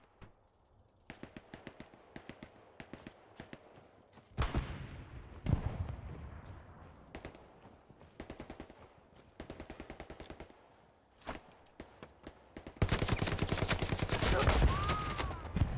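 Sharp single gunshots crack steadily in the World War II shooter Hell Let Loose, broken by heavy grenade blasts around the middle and a long roaring burst of explosions and fire near the end.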